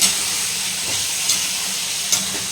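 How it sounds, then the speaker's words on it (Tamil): Tomatoes frying in a pan for a Tamil tomato gravy give a steady, close hiss and sizzle throughout, with a couple of brief louder crackles and no talking. "நல்லா வதங்கட்டுங்க. தக்காளி வதங்கினதுக்கப்புறம் பார்த்துக்கலாம் வாங்க."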